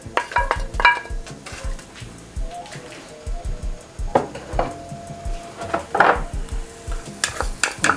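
Onions and garlic sautéing in olive oil in a pan, a soft continuous sizzle with frequent close scrapes and knocks of a utensil stirring against the pan, fairly loud and with no talking.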